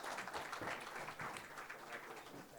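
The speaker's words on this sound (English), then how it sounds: "So let's give him a huge round of applause as he joins us on stage." An audience at a fintech festival stage launch applauding, a steady, moderately distant wash of clapping that holds evenly for a few seconds.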